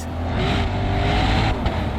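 Lexus IS500 with a 5-litre naturally aspirated V8 engine, a deep, steady engine roar held at high revs, loud and close, with no voices.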